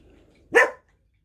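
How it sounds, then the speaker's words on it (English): A single short, sharp bark from a dog, close and loud, standing alone against a quiet background. "Yeah, she's barking."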